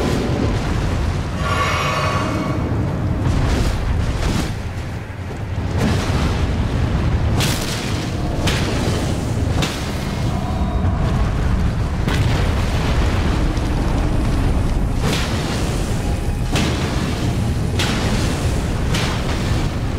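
Fire attack explosions from the video game Elden Ring: loud, dense booming bursts rumble continuously for twenty seconds, with repeated sharp blasts and a brief lull near the five-second mark.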